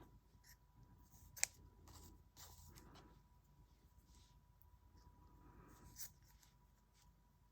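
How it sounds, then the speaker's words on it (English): Scissors snip through scrap paper for a handmade booklet craft, a few quiet crisp cuts spaced over several seconds, one sharper snip standing out, with a low background hum and no talking. "as you can see, I'm cutting. There's no trick, I'm just cutting."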